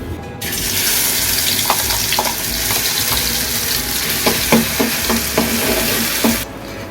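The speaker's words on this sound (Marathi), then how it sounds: "मसाला सगळा वाटून झालेला आहे तो आता आपल्याला याच्यामध्ये घालायचा आहे परतून घ्यायचं" Ground masala paste for stuffed bangda mackerel frying in a pan, a steady close hiss of oil with scattered crackles and a few scraping stirs throughout, no voices.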